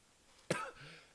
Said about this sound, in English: I can't be coughing these days